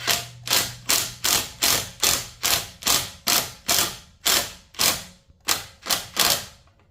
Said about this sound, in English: so now we're just going to put our screws in here